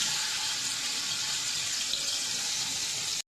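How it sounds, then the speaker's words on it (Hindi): Chicken pieces for biryani frying in hot ghee, a loud, steady broadband sizzle that holds constant from start to finish before cutting off abruptly. "अब हम इसको गैस में डाल देंगे, आराम आराम से डालेंगे ताकि हमारे ऊपर ना आए छींटे, क्योंकि हमारा ऑयल गर्म है।"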